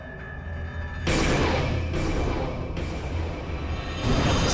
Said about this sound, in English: That's the sound of the system powering down, and the stairs opening up.